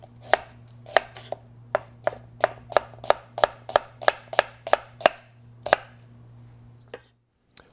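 Knife chopping onion on a cutting board in a home cooking demo, a steady run of crisp thuds, about a dozen cuts speeding up then slowing, close with a low hum underneath.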